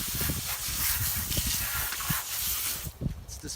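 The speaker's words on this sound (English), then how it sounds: "Spray it off, make it look nice." Water spray hosing off a concrete-filled pier piling during pier repair, a steady close hiss of spraying water with irregular low splashing and gurgling underneath.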